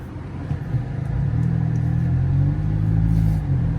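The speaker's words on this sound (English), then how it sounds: "you can hear the exhaust note, but it sounds beautiful" Deep, throaty exhaust rumble from a 2009 Nissan Altima coupe, rising slightly in pitch and volume as it drives, steady and close.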